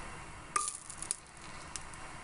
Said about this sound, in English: So you can actually hear it starting to sizzle now